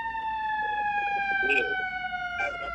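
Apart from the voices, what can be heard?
ambulance siren passing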